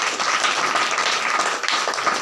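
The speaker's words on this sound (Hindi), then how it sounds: "जोरदार ताली से धन्यवाद" A Christian congregation at a prayer meeting bursts into sustained, vigorous applause, dense clapping holding steady and fairly loud throughout.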